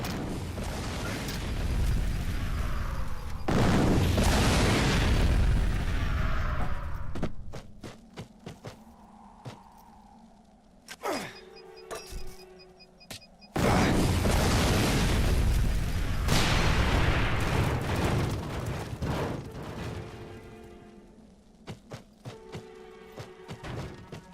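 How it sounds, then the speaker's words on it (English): A grenade blasts open a marked window in the shooter game Fracture, two long roaring booms several seconds apart with rumbling debris and scattered clicks and thuds between them, no talking. "Use a grenade to break into the window I've marked."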